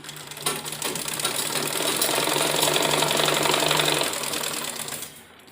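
A sewing machine runs steadily as it stitches a seam on a baby dress, a close and loud mechanical whirr lasting about four seconds before it slows and stops.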